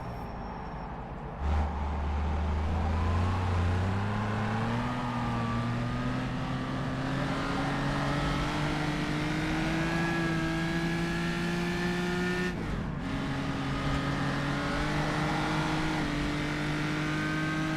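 Historic race car engine heard onboard at Rouen, loud and continuous as it pulls through the gears, a sharp gearshift early on and another brief drop near the end before the revs climb steadily again.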